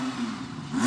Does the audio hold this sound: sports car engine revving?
yes